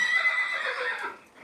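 A horse lets out a single drawn-out whinny that stays loud and close for over a second before trailing off.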